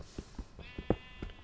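Sheep bleating in the Minecraft video game, a few short synthetic bleats repeating close by in a quick rhythm, with nothing else around them.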